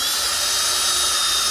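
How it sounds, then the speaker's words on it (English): A power drill bores a hole into a Dollar Tree Halloween tree, making a steady, close, high-pitched whine that holds evenly for a moment without speech. "when you go to drill a hole, you kind of want it in approximately the same area"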